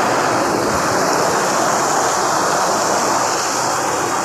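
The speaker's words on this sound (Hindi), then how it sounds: "ये वाटरफॉल हमेशा 12 महीने चलता है" Steady, loud rush of a year-round waterfall in a valley near Rishikesh, a dense continuous roar of falling water with no break and no talking.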